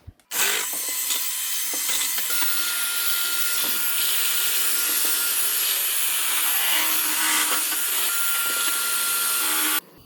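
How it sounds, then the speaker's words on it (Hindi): An electric mixer blends lassi for saag as a steady, loud whirring drone that holds for almost ten seconds, starting and stopping abruptly. "मिक्सचर के साथ मिक्स करूँगा ताकि ये तीनों चीज़ें अच्छी तरह मिक्स हो जाएं"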